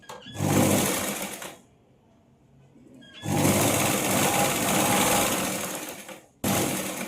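A sewing machine stitches a folded fabric edge in two long continuous runs with a quiet pause between them, then a brief third burst at the end, steady and close.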